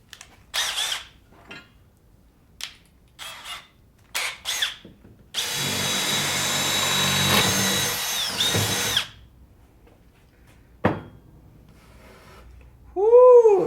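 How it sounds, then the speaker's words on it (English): A power drill boring into old pine whirs steadily for a few seconds between short bursts of handling noise and clatter, fairly close and loud. "Drill time."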